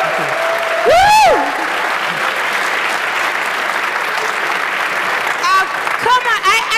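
A conference audience applauding a speaker, steady clapping throughout with whoops and shouts rising over the crowd and a louder swell near the end.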